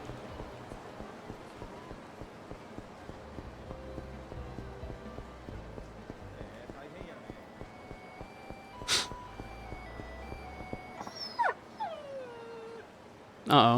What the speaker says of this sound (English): Excuse me, ma'am, there's a puppy somewhere. I heard a puppy.